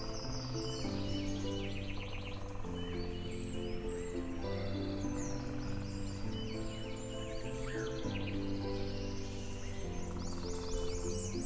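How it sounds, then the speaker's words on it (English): Birds chirp and sing steadily throughout, layered over a dense bed of sustained tonal sound, with calls scattered across the whole stretch. "Listen to the melodious songs of birds"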